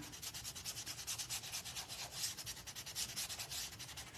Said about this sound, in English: And then you can just kind of sand it out.